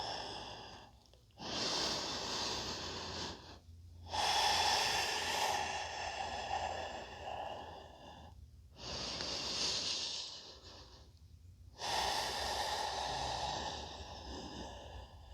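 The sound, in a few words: slow deep breathing during yoga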